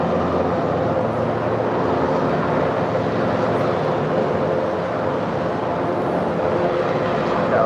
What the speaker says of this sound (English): It's a 737-700 landing here on the south side.